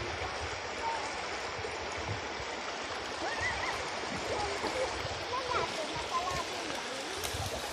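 Steady rushing and burbling of the Nagy-Küküllő (Târnava Mare) river flowing, continuous and moderately loud, with no voices over it.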